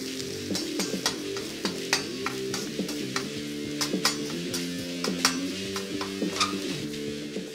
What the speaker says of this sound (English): Now we'll just brown that bread up a little bit